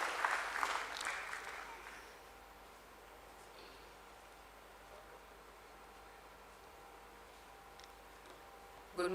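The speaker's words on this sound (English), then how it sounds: "A nice big round of applause, ladies and gentlemen, for Ms." Audience applause at a bank's stock exchange listing ceremony, a brief burst of clapping at the start that fades within two seconds, leaving a low room hush.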